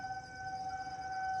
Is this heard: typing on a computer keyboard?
no